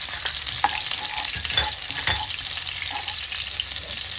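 Garlic frying in two teaspoons of butter in a pan, a steady close sizzle with a few stirring scrapes and light clicks, no voices.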